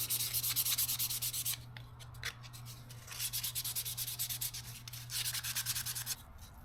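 A wooden inlay cutting board being sanded gives steady, rhythmic rubbing strokes in bursts, with brief pauses between passes and a constant low hum underneath.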